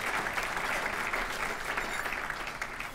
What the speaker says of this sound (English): Give all of the elected officials a big round of applause.